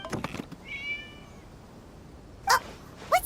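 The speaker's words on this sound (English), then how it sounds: "It was just a cat." Cat meowing in the video game Genshin Impact: one soft, drawn-out meow sounds early, and sharper, brief cries follow later over a quiet background.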